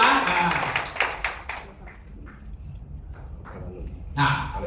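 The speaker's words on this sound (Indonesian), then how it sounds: "Boleh kasih satu tepuk tangan untuk Incawe." Audience clapping at a hotel event breaks out in a brief burst at the start, fades, then briefly swells again near the end.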